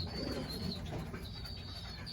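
Racing pigeons coo softly and steadily in their loft, a low murmuring burble with faint chirps over a constant room hum, no voices present.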